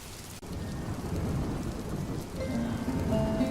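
Rain and thunder in a cartoon storm scene: a dense, steady patter of heavy rain with a low rumbling roll underneath, close and continuous, no voices.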